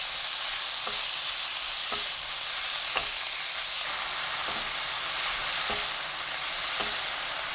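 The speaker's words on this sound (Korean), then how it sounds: "팬에 삼겹살을 센 불로 익힙니다." Pork belly sears in a pan over high heat with a steady, bright sizzle, and a spatula scrapes and taps against the pan about once a second.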